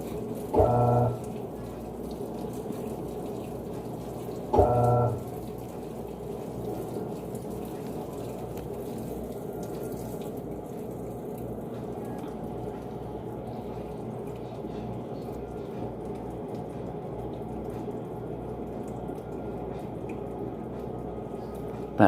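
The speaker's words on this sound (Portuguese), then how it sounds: "A água bate na roupa, dá pra ver o sabão saindo daqui." Water strikes clothes inside a Panasonic 14 kg washing machine washing dark laundry, making a long, even patter and splash at a steady level. Two brief tonal beeps come near the start, and there is no talking.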